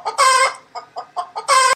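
A hen clucks in a short close sequence: a loud squawk, four quick soft clucks, then another loud squawk, with nothing else heard.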